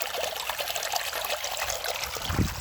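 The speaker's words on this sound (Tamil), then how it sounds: "நாங்கள் வந்து வாய்க்காலில் வந்து சொட்டு சொட்டாக விட்டுருவோம்" Fermented liquid fertilizer mixed with water trickles drop by drop into an irrigation channel in a maize field, a soft continuous dribbling splash with a few louder spatters near the end.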